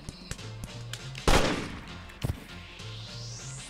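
Gunfire in The Amazing Frog sounds as one loud blast followed by a sharper second shot, with small clicks and a low repeating in-game hum underneath.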